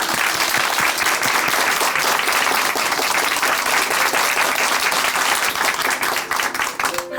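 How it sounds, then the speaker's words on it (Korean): Studio audience at a Christian testimony program breaking into loud, dense applause that holds steady for several seconds before tapering off at the end. "박수로 함께 응원해 드리겠습니다"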